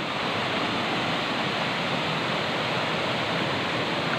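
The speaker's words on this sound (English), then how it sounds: "There's the waterfall." A waterfall roars as a steady, dense broadband rush of falling water, loud and close, unbroken throughout with no voices.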